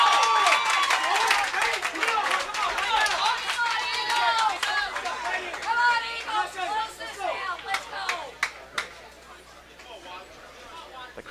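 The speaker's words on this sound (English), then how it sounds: "The crowd's starting to get into it here" Spectators at a men's college bowling final, the 2013 Hoosier Classic, cheer and clap in a dense, rising crowd roar with scattered sharp claps and overlapping voices, loud and continuous throughout.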